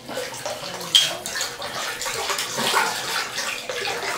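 Water sloshes and splashes steadily as a beer bottle is scrubbed and rinsed during label removal, with a brief louder splash early on and no speech.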